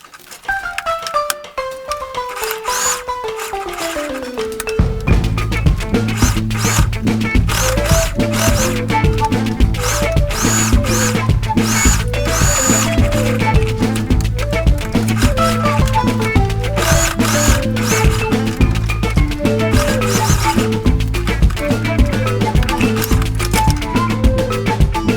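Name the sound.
sewing machine stitching a pleated fabric face mask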